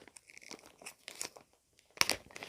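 Heavy milled plastic bags crinkling and crunching as someone digs through a 250-piece first aid kit, with quiet intermittent rustles building to a sharp crackling burst near the end.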